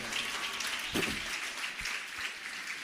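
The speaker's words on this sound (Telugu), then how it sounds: "చప్పట్లు కొట్టి దేవుని కనపరుచుతాం" A church congregation claps together in steady, dense applause that holds evenly throughout, with no talking over it.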